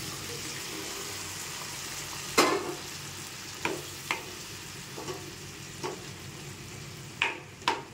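Potatoes and green peas fry in a pan for an aloo matar curry, a soft continuous sizzle punctuated every second or so by light scrapes and clinks of the stirring spoon.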